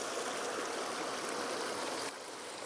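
A river in central-western Mayotte, where laundry is washed by hand, rushes steadily as a soft, continuous broadband wash of flowing water with no voices.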